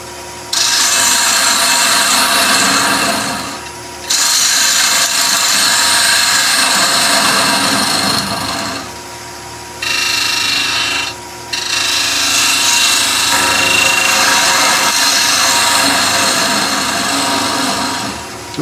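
Wood lathe spinning a tealight holder blank while a quarter inch gouge cuts it, a loud steady rasping scrape that runs in long bursts with short pauses where the tool lifts off.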